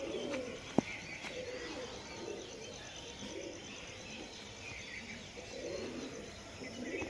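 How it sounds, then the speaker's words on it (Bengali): Pigeons released at a low-flyer pigeon tournament in Nabadwip give soft cooing and a brief wing-flap burst near the start, outdoors over steady ambient noise and faint chirps. "এই যে পায়রা উড়ে গেল।"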